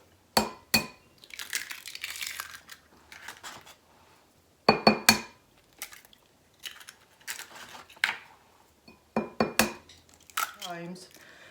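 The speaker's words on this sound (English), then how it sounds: "So we're going to crack 4 eggs into the bowl." Four eggs cracked one after another into a bowl already holding smoked Gouda cheese, with sharp shell taps against the rim followed by soft drips and slithers into the bowl, separated by short pauses.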